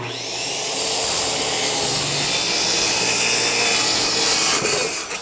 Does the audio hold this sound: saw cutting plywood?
yes